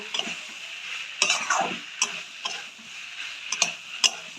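Cauliflower being stir-fried in a pan, with a light sizzle under repeated scraping and clicking strokes of a spatula against the metal, irregular and close.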